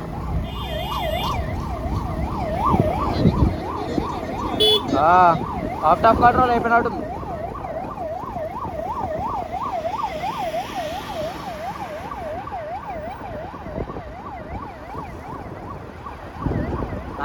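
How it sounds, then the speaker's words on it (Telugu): An ambulance siren wails on a highway near a checkpoint, its rising and falling tone repeating steadily over road and engine noise, with a voice speaking briefly partway through. "అదిరా అంబులెన్స్ చెక్ పోస్ట్ కాడికి వచ్చింది"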